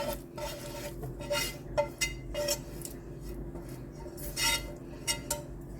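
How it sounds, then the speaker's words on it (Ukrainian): Soft clattering and scraping as fried carrots with onion and garlic are poured into a bowl, with repeated light clinks and stirring sounds, fairly close, no talking. "Всипаю смажену моркву з цибулькою і чесничком."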